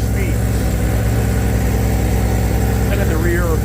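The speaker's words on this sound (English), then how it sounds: "at idle, not a lot of difference that occurs. But this definitely has a much throatier exhaust and a higher speed." Close by, a Honda Fireblade motorcycle idles with a throaty exhaust in a steady, even putter, while a voice talks over it.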